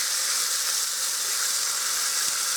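Pork chops sear in a hot pan with a steady, bright sizzle. The hiss holds even and close throughout, with no voices over it.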